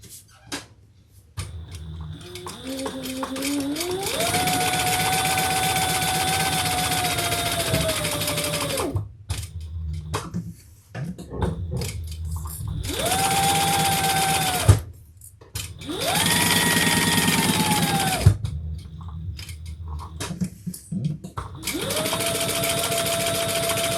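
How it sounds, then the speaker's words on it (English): A sewing machine stitches down the side, around the bottom and back up the other side of a bag, running in long loud whirring stretches with rising pitch as it speeds up and short pauses between runs. "we're going to sew down the side, all around the bottom, and back up the other side"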